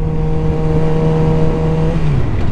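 A sportbike engine holds a steady droning note close by in third gear, then its pitch falls away near the end, with continuous road and wind noise under it.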